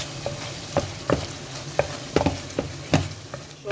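Pasta with dried parsley being stirred in a pan while cooking macaroni with salmon, a soft sizzle under repeated scraping knocks of a utensil about every half second, close up and without talking.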